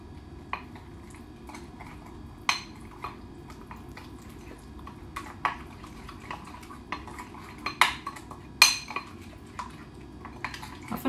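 A utensil stirs chicken pieces with flour in a dish: irregular clinks and scrapes against the bowl over a low background, growing busier and sharper toward the end, with no voices.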